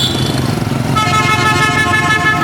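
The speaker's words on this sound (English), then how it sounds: "honk your horn and don't stop and don't run." A car horn sounds in a long sustained blast amid busy road traffic and engine noise, loud and close.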